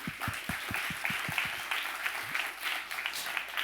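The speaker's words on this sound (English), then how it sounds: "I propose a big round of applause for them." Audience applause at a university forum on Bitcoin and free software, a steady dense patter of many hands clapping from a moderately distant crowd, continuing evenly throughout.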